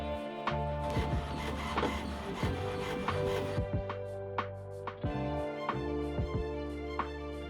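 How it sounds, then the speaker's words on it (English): An HP 6075 all-in-one inkjet printer prints, giving a steady mechanical whir with rubbing, rasping paper feed, and rhythmic clicks and taps, close up with no speech. "it starts printing"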